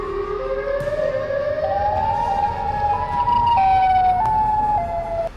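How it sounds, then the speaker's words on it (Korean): A siren attributed to the Siren Head creature wails loudly with stepped, shifting pitches over a constant background rumble, with no talking. "그리고 사이렌 헤드의 소리가 들려와."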